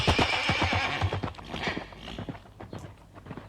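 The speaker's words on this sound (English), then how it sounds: "The horse galloped away, and as it did so, it bared its yellow teeth and" Hooves clip-clop in a rapid galloping rhythm while a horse gives a shrill neigh, the animal sounding close and moving fast through a spooky story scene.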